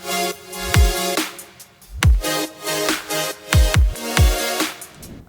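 A future bass drum loop shaped with EQ, saturation and reverb plays alone: punchy booming kicks and bright snare hits land in a steady rhythm, each trailing a wash of reverb over sustained tonal layers.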